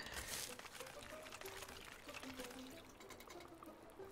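In the farming game Kynseed, liquid pours in a soft, continuous trickle and splash, faint and close, with a few light tonal chimes over it.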